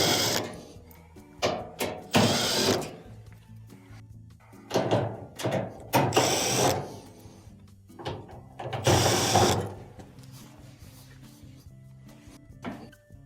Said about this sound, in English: Then we have multiple Phillips screws on the bulkhead to take it out.